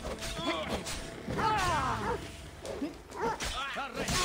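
A dog in the video game Assassin's Creed Odyssey gives several short yips and whimpering cries, close and moderately loud, under someone talking.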